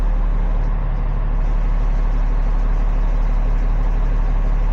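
A Cummins ISL9 diesel engine runs steadily at idle, a loud, constant low-pitched rumble with no change in pace and no voices over it.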